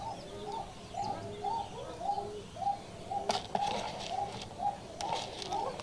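Soft, repeated pigeon coos in a steady rhythm, with a few brief chirps and rustling bursts in the background.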